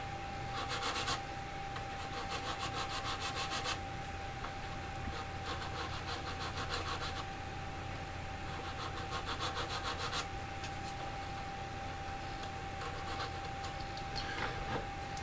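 Coarse-grit sandpaper scrubs plastic parts of an Academy 1/48 SU-27UB Flanker model kit in steady, close rasping strokes, coming in rhythmic bursts with short pauses between.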